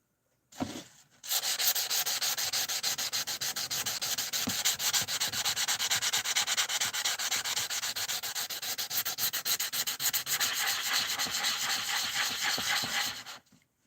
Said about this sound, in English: Sanding day.